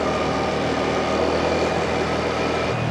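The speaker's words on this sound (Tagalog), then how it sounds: "Medyo maingay yung motor nila." Rented motorbikes on a Vietnamese street give off a steady, loud engine drone with a constant low rumble and no break.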